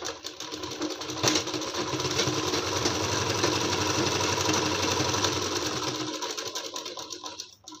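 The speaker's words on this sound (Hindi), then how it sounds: "अब इसको सिलाई लगा देना है गले के किनारे किनारे।" An electric sewing machine stitches along the neckline of a net fabric kurti with lining, a steady close whirring hum running for several seconds before slowing to a stop.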